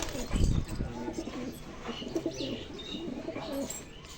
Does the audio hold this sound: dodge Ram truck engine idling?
no